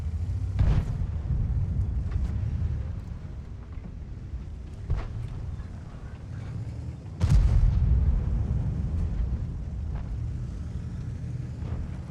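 A tank cannon fires at a wall in World of Tanks, two heavy booming shots spaced several seconds apart, the second louder, over a constant low engine rumble.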